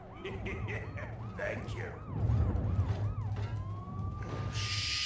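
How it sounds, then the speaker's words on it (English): A wailing police-style siren coming from a taxi cab in a police chase video game, rising and falling in quick repeated sweeps, then shifting to a long steady tone, with engine rumble beneath and a voice briefly present. "my car is a taxi cab making a cop car sound"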